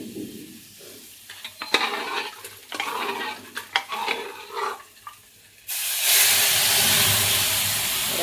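Lentils for dal added to a hot pan with cumin and coriander powder, bursting into a loud, steady sizzle and hiss after a stretch of stirring and scraping clatter.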